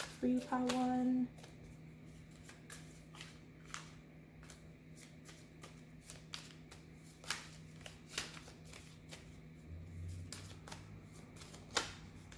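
Tarot cards are shuffled by hand in a quiet room, with a dense run of soft riffling and slapping card sounds, a brief tone near the start and occasional light taps.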